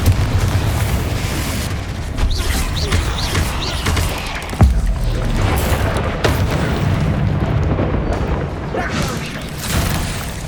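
A Confringo blasting spell explodes in the Hogwarts Legacy video game, with a sudden deep boom about midway through a dense, rumbling bed of game sound effects.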